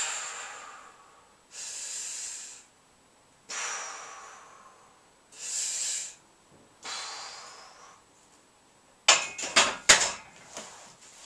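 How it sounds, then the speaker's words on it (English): A person doing a bench press breathes in and exhales in slow cycles, about four long, close airy breaths, followed by a few sharp clanking knocks of gym equipment. "So breathe in the way down"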